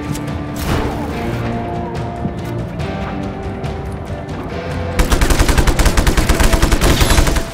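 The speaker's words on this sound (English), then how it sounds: "Is that a tank shooting at me?" Heavy automatic fire from a tank in the open-world action game Just Cause 3, scattered shots and impacts over a mechanical rumble, then a loud, rapid, continuous stream of close gunfire in the final seconds.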